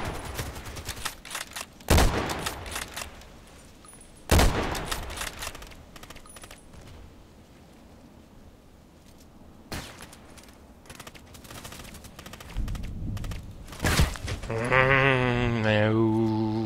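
HK417 rifle shots ring out as a handful of loud, isolated cracks spaced several seconds apart, with quieter handling noise between and a brief bleating or tonal sound near the end.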